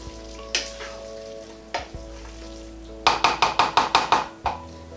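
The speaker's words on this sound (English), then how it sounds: "And then we're just going to mix it all together" Cajun rice and beans with spices stirred in a hot pan: a few spaced scrapes, then a quick rhythmic run of about eight spoon knocks against the pan over a low sizzle.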